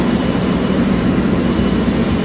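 A ship's main engine and generator fuel oil supply screw pump runs in the pump room, a loud, steady machinery drone with a deep low hum and no change in level.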